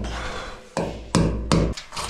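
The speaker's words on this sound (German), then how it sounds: "Dann kann ich das hier schon mal in Position hämmern." A hammer knocks a part into position during a drywall ceiling installation, with three or four sharp, close blows spaced irregularly over a low background rumble.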